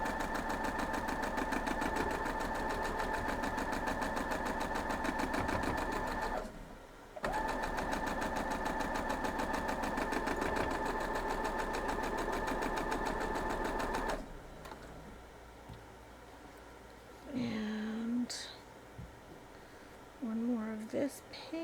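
A sewing machine hums steadily while stitching a broken courthouse steps quilt block, pausing once before resuming, then falling quiet as soft handling noises and a voice follow.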